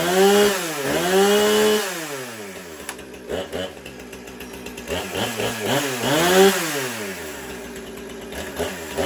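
A Husqvarna chainsaw fitted with a different carburetor revs loudly and up close, its engine pitch climbing and falling in repeated sweeps between steadier stretches of running.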